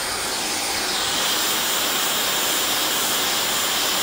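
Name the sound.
Dyson hair dryer blowing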